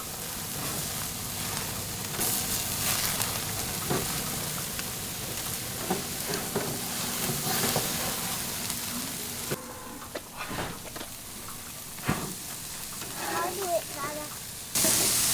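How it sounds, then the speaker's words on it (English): Steaks sizzle on an outdoor grill that is engulfed in flames, a steady hiss and crackle that carries on throughout while people talk over it. "we emerged 3 minutes after putting the stakes on to find the grill engulfed in flames"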